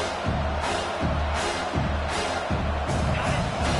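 A dense stadium crowd roars at a Penn State versus Michigan football game, a broad continuous wash of noise with rhythmic low thumps pulsing roughly every half second, loud and enveloping with no clear talk.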